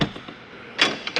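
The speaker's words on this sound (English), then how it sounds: "we can open up, close our exterior door" A storage unit's exterior door closes with a soft scrape, then a louder clattering thud near the end followed by a couple of small rattles, fairly close, with no speech.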